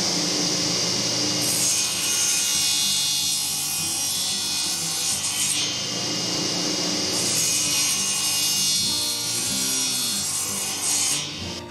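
Hand saw ripping freehand down the sides of a wooden piece to cut a notch, a loud steady rasping stroke sound running throughout with brief pauses between strokes, close up and alone.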